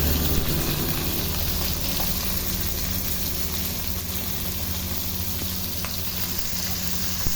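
Air-dried broccoli spread across a hot frying pan gives off a loud, continuous sizzle and crackle, steady and close throughout, with no voices.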